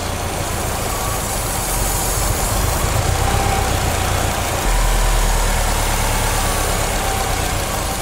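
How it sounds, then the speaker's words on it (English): Steady idle from a running Subaru engine while cleaner is sprayed into the intake, a constant close hum whose low end swells slightly partway through. "The vacuum sucks it in now, so it's much easier when the engine's running."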